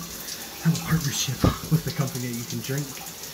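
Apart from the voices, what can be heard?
shower water running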